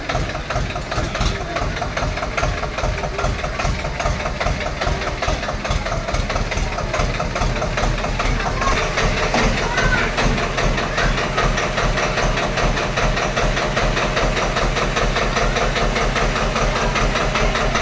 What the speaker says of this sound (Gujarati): આવું બાઈક લઈને આવું.